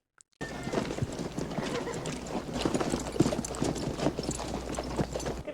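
Steady clip-clop of horses' hooves in a Western film scene, a continuous close rhythmic patter of several animals with an occasional whinny, no talk.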